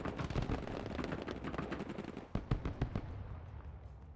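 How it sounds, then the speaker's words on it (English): Grenades launch and burst in the Broken Arrow video game, a rapid crackle of distant explosions and gunfire followed by several sharper, louder thumps, with no talk. "More of our grenades being launched."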